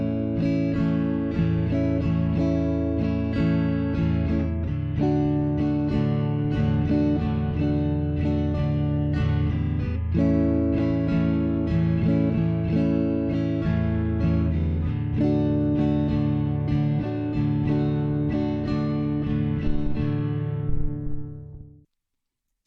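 Guitar chords strummed steadily in a calypso pattern, loud and continuous with rhythmic chord changes and no talking, ringing out and fading at the end.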